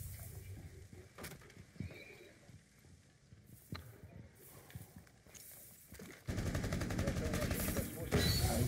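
Gunfire in the tactical shooter Rainbow Six Siege, scattered sharp distant-sounding shots over quiet game ambience, turning into a sustained loud burst of noise near the end, with Portuguese talk.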